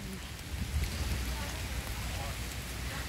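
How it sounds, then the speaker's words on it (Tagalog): Rain falling at Candelaria Beach Resort, a steady, dense hiss of drops on surfaces, close and continuous with faint low rumbling beneath and no clear voices. "Kaso umuulan."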